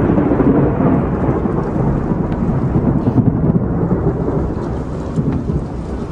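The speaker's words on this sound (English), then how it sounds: "Thunder's probably coming in 3, 2." Thunder from a nearby lightning strike during a storm, a heavy sustained low rumble that stays loud throughout, mixed with steady rain.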